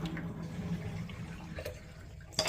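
Water runs from an RV bathroom sink faucet while a 2024 Jayco 199MBS is winterized, a faint steady splashing stream close by, ending with a brief clunk.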